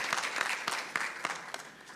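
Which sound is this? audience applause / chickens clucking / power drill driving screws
audience applause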